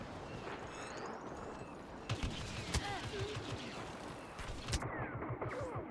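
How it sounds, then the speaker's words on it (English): Blaster gunfire in Star Wars Battlefront multiplayer, a steady barrage of repeated shots with sharper bursts near the middle over a constant battle din, loud and close with no talking. "I'm getting shot in the back."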